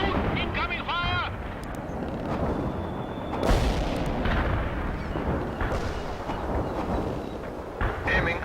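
Artillery in the World in Conflict: Soviet Assault strategy game sounds as deep booming blasts and rumbling impacts through a dense battle mix, with radio-style unit voices and chatter running over it.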